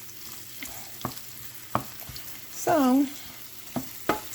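Oil sizzles softly and steadily in a pan before plant-based burgers go in, with a few sharp clatters of a utensil on the pan, one brief spoken word and a short high squeak partway through.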